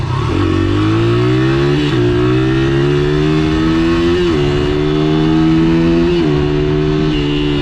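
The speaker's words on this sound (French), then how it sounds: "Il y a trop de bagnoles en fait, il y a trop de trafic" A loud, close Ford Mustang engine drones steadily in heavy highway traffic, its pitch climbing and dropping back as it shifts through gears.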